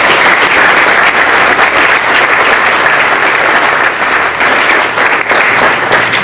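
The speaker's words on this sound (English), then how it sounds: "on came Doug Nice, our CFO, who also gets a round of applause" A crowd at a groundbreaking ceremony for The Corners of Brookfield applauds the company's CFO, Doug Nice: loud, dense, continuous clapping that holds steady from start to finish with no talk over it.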